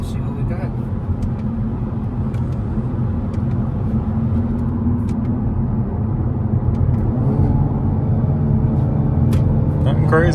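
A Hyundai Elantra N with an aftermarket downpipe, exhaust in normal mode, rumbles steadily while driving, a deep continuous drone with slight rises in pitch as it shifts, close and loud throughout.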